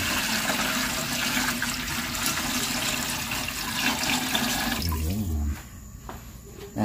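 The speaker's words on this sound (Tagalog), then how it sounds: "lagyan na natin ng tubig mga kabayan para kumulo na po siya" Tap water runs steadily into a cooking pot for fish sinigang, a dense splashing flow that fills most of the stretch, then eases into a quieter, lower trickle near the end.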